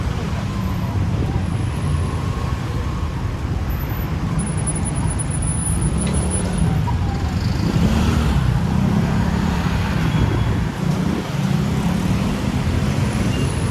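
Steady street traffic on Soi 21 in Bangkok, with cars and other road vehicles rumbling past continuously at close range, a dense low engine and tyre drone that never lets up.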